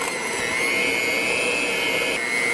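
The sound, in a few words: electric mixer creaming softened cream cheese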